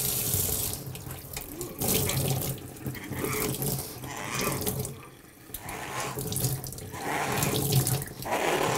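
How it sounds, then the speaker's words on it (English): A tap runs loudly into a bucket for drywall work, a continuous rushing fill that briefly dips in the middle before surging again, close by. "Now, I'm just gonna load this up with water here real quick."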